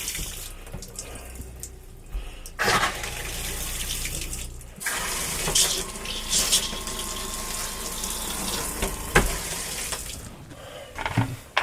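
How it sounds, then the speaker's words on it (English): Pink RV antifreeze runs through a travel trailer's hot and cold faucets, a steady gushing pour into the sink with sputters and splashes as the flow changes, close and fairly loud. "we want to turn on both the cold and the hot water sides to make sure that everything runs pink through the faucets"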